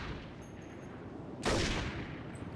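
A single loud sniper rifle shot in the open-world game Saints Row 2 cracks out over a steady background of game ambience, followed by a short fading echo, with no voices.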